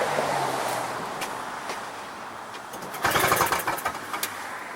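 A small snow blower engine is yanked by its pull cord, sputtering briefly with a burst of rattling cranking near the end, but it does not catch; a little fuel leaks out.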